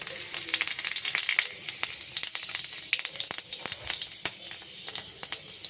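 Panch phoron, the five-spice seed mix, hits hot oil in a wok and sizzles with a steady, close, busy crackle and sharp popping seeds throughout, with no talking.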